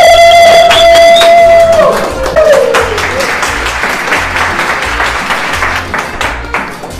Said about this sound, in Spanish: Pido un fuerte aplauso a negros del WhatsApp.